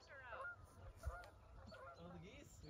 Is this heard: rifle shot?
no